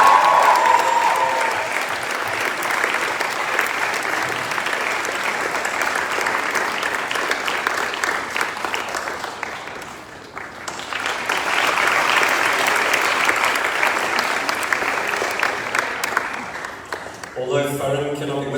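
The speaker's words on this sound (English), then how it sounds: "please give her a huge round of applause" Sustained applause from an audience at a school graduation ceremony, broad steady clapping that dips briefly midway and then swells again, with a voice starting to speak at the very end.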